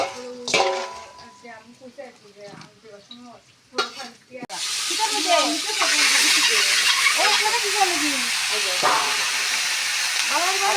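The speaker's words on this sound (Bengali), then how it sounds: "ডিমগুলো হলুদ মাখা হয়ে গেছে এখন বেজে নেব" Turmeric-coated eggs fry in a pan with a steady, loud sizzling hiss that starts abruptly and carries on, after a few seconds of clattering and a voice beforehand.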